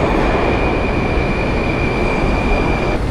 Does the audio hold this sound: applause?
no